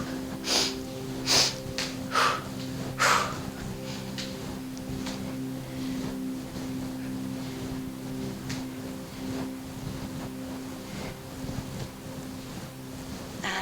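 Several sharp, audible breaths, quick and forceful, come during a Pilates exercise over a soft, steady musical hum, after which the breathing fades to quieter, faint puffs.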